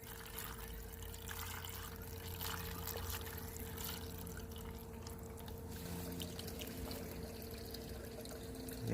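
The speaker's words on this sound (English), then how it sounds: "And here comes my water." Pumped water pours steadily into a gold sluice in a garden flower bed, a continuous low trickling wash that stays even and fairly quiet throughout.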